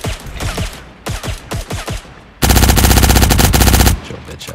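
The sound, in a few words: rapid gunfire in a Matrix-themed video game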